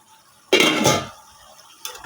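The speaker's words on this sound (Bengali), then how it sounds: "দেখো ঢাকনাটা খুলছি" A metal lid comes off a cooking pot of pumpkin greens with a single close, bright clatter and scrape lasting about half a second, then a quiet stretch and a softer clink near the end.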